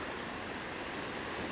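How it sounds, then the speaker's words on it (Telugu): Floodwater rushes forcefully through a breached tank embankment, a steady, faint broadband roar of flowing water heard on its own without talk. "వాటర్ ఇంకా ఫోర్స్గా వెళ్తున్నాయి"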